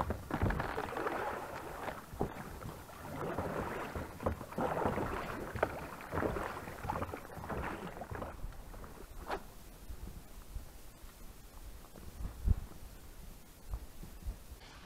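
Boat crossing the Moksha river, a continuous low rumbling wash of water and hull noise with occasional knocks and splashes, steady throughout with no talking.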